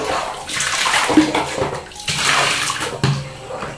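Hot water poured little by little over instant WOW Spageti spicy garlic aglio olio pasta, a close, steady splashing stream in two pours with a brief pause between, no talk.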